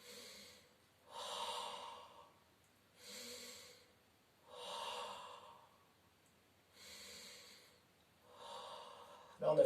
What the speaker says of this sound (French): Là, on a fait 3 mouvements de respiration